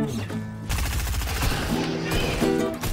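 Rapid automatic fire from a drum-fed gun in a shooter game, a dense continuous rattle of shots that carries through the full stretch, loud and close.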